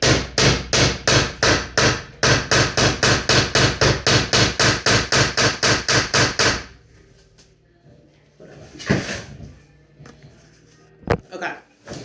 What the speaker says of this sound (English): I hammered it and it was like really loud